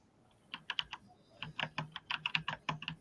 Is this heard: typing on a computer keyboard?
yes